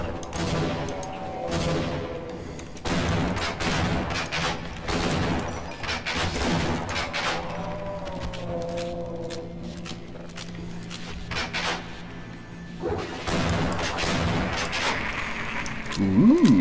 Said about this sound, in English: Oh god! Grenades! Grenades!